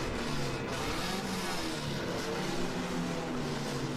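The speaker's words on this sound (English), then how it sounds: "I'm hearing a lot of revving going on Les's camera" Race car engines at a Sebring endurance race, heard as a continuous, moderately distant roar with revving swells and a broad noisy wash, no talking.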